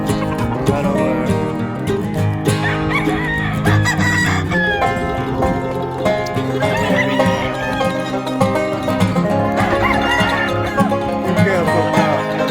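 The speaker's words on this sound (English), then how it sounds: "That's one of my hatch roosters, or Kelso roosters, in Devil Tough Farm." A Kelso rooster on an Oklahoma game-fowl farm crows and clucks loudly, its calls set within a dense, continuous bed of other sound that runs throughout.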